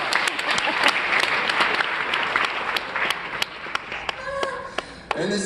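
Applause from an audience greeting Maya Willis, a thick continuous patter of many hands that thins toward the end into scattered individual claps.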